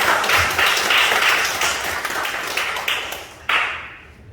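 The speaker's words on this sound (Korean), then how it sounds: "여러분 기쁜 마음으로 박수로 환영해 주시면 감사하겠습니다." A church congregation claps to welcome visitors at a Sunday service in Jeju, a steady wash of many hands that fills the room, then fades and tails off near the end.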